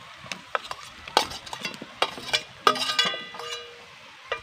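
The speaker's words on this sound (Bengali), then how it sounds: "মশলা কিন্তু আমি ভালো করে কষিয়ে নিয়েছি এবার দিয়ে দিচ্ছি ভেজে রাখা আলু" Fried potatoes go into a pan of spiced fish curry masala and are stirred, giving scattered spoon scrapes, soft clinks and light sizzling up close, irregular and fairly quiet with no speech.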